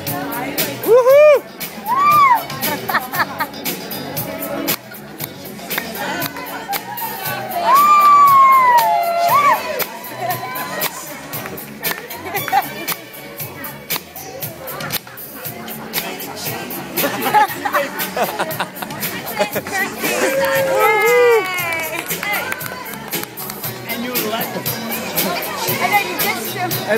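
Wedding crowd cheering and whooping at a dance, with rising whoops and shouts over steady crowd chatter and laughter, lively and close throughout.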